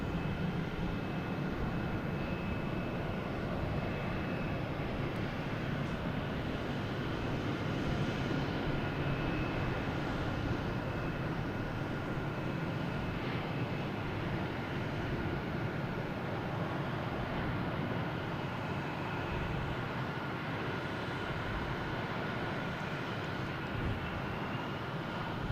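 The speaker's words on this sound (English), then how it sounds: "We have a Delta E175 coming in from Cincinnati." A Delta Embraer E175 airliner lands at Boston Logan, arriving from Cincinnati. A steady, broad jet roar holds at an even level throughout, with a faint high whine running across it and no talk.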